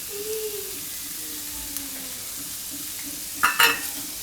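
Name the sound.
vegetables cooking in a pan with salt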